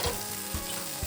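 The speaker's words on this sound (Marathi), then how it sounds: "टोमॅटो शिजायला ठेवले आहे मी, याच्यावर आता मी झाकण ठेवून घेणार आहे" Tomatoes cooking under a lid in a pan for paneer tikka masala give a steady, close sizzle and bubbling hiss that runs on its own with no talking.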